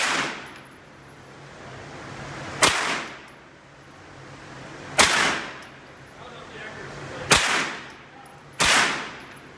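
A big 30-06 rifle fired at a shooting range, four loud sharp gunshots spaced a couple of seconds apart, each with a ringing decay and a faint buzzy background between shots.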